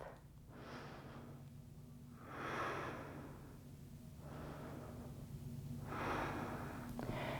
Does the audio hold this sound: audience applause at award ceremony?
no